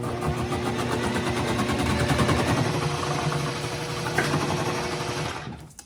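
A KitchenAid shredder attachment grinds through cabbage for coleslaw, a loud, steady mechanical whir with rattling that runs continuously close up before cutting off at the end.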